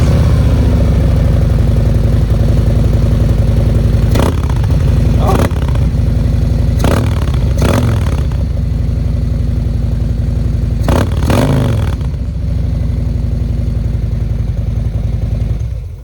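A 2024 Harley-Davidson Road Glide Extreme with its baffle drilled out and intake off runs up close, with a deep, loud idle broken by several sharp throttle blips spread across the stretch.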